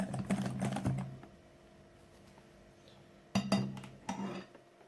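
Cake batter for a chocolate hazelnut cake whisked with liquids in a bowl: quick clattering strokes tick against the bowl in two bursts with a quiet pause between, close and fairly soft.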